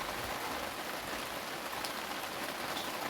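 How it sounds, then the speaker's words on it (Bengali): Steady rain falls in cloudy weather, a dense, even hiss of drops on surfaces, fairly soft and continuous with no voices. "এই বৃষ্টি পড়ছে, মেঘলা আবহাওয়া"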